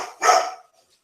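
A single sharp dog bark, close and loud, lasting about half a second and then fading into quiet.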